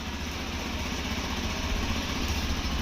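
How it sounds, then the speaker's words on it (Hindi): A Hero XPulse motorcycle engine runs at a steady idle, a continuous close, fairly loud low rumble with no talking. "जैसे ही मैं स्टार्ट करूंगा बाइक स्टार्ट होगी"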